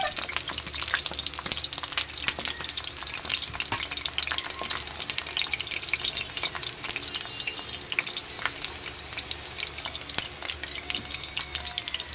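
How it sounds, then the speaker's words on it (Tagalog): Vegetables and marinated pork fry in a hot pan for kare-kare, a continuous close crackling sizzle with steady bubbling and occasional stirring clicks, no voices. "basta lahat ng gulay piprito nyo. Pati yung pork na minarinate."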